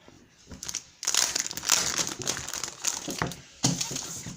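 Packaging around a small paper pocket-money notebook being torn open and crumpled close up, in loud bursts of crinkling and ripping with brief pauses between them.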